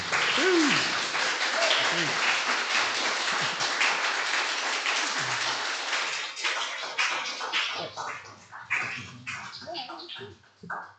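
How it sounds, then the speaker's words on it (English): A conference audience gives a sustained round of applause for a panel, dense clapping that fills the room before thinning out toward the end, with a few voices talking over it. "Please give them a round of applause."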